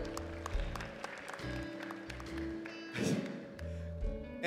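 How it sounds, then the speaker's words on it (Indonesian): Congregation clapping for a volunteer during a Good Friday church service in Indonesia, a burst of applause mixed with room noise and a swell of clapping near the end, with speech around it. "beri tepuk tangan buat Iren."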